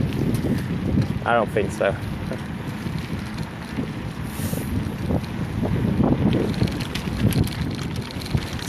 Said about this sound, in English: It's quite blowy today. There's a lot of wind.